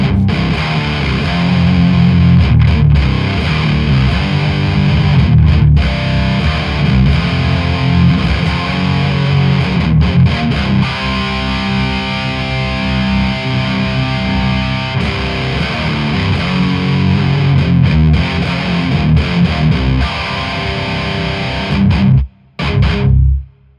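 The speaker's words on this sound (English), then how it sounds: "let me try Nick's guitar with the low tuning, just to see how the metal sounds would work" A low-tuned electric guitar played through a Diezel VH-X tube amplifier chugs out heavy metal distortion, loud and close, with palm-muted riffs and brief stops before cutting out near the end.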